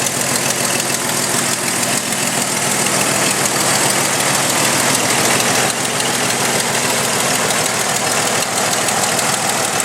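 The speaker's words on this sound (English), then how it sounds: "Got a lovely tick coming from the back side of the motor." A Jeep Cherokee 4.0L stroker engine idles steadily with a persistent tick from the back of the motor, a loud, close, continuous mechanical clatter with no talking.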